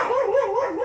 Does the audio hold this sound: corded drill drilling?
no